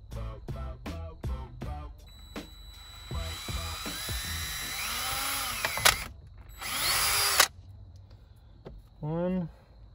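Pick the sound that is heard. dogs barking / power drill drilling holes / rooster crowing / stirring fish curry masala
power drill drilling holes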